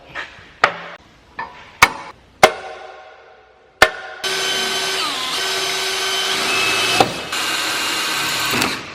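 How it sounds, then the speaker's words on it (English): A cordless impact driver bores into farm equipment, opening with several sharp separate knocks before settling into a loud, steady whirring drill run of about five seconds, briefly interrupted once, close up with no talk. "That actually drills a lot easier than I expected."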